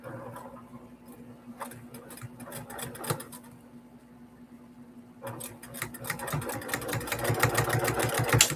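Sewing machine stitching a quilt, a close mechanical whir starting in short stuttering runs, then a longer steadier stretch of stitching that grows louder at the end.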